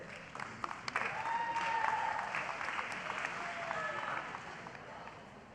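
Audience applause welcoming the cast of a student play, The Forest, at a fine arts festival, with steady dense clapping and crowd noise filling the whole stretch at moderate level.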